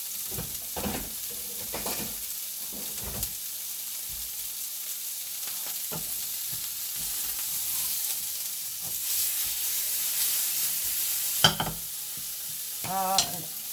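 Potato and sweet potato wedges sizzle steadily in a pan over fairly high heat, a constant frying hiss broken by scattered clanks and scrapes of turning and stirring, with a couple of sharper knocks near the end.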